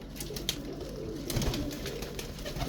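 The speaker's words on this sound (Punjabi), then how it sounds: "ਇਹ ਭਾਈ ਜਾਲੀ ਵਾਲਾ ਕਬੂਤਰ ਹੈ ਜੀ" A Saharanpuri pigeon coos softly at close range, low repeated calls over a quiet background with faint scattered noises and no talking.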